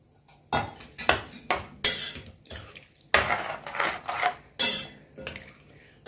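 A spoon scrapes and knocks against a pot of rice being mixed with salt for vegetable pulao, in a series of rhythmic strokes, close and fairly loud, with no talking.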